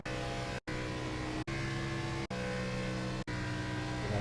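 A damaged race car engine at Indianapolis Motor Speedway in a racing video game drones loudly and steadily, interrupted by several brief abrupt dropouts, as if heard from inside the car.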